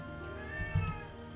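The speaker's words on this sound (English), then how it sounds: "She likes to meow a lot." A pet cat named Darminu meows once, a short close cry rising out of a quiet room with steady background hum.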